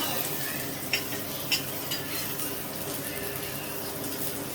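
Shawarma filling frying in a generous amount of butter makes a continuous even sizzle close by, with a few soft spatula knocks and a voice in the background.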